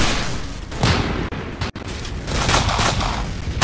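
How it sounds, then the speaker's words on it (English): Rapid gunfire from a burst assault rifle in the Roblox shooter Arsenal, loud and dense, with repeated crackling bursts close up and continuous game noise, no speech. "we got a burst assault rifle."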